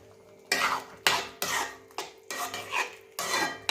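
A poori masala of potato is stirred in a pan after more salt goes in, giving a series of close, loud metallic scrapes of a spoon against the pan, about six strokes in a steady rhythm with short pauses between them.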